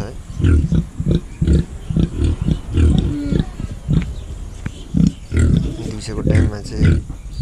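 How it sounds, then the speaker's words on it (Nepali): A local pig feeds on banana leaves, giving rhythmic grunts and chomping bursts close to the microphone, while a person talks over the eating. "मजाले खायो अहिले केराको पात है"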